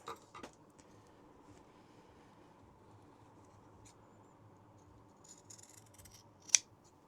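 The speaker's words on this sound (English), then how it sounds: "So just go around, cut them all off." Sewing scissors snip fabric in a quiet room with a few faint, sparse, close cuts, one sharper snip standing out near the end.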